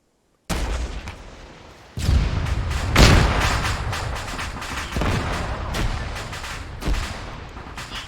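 Anti-tank rocket launcher fired in a video game: a sharp loud blast followed by several more booming shots and rumbling echoes over about eight seconds, with no talk.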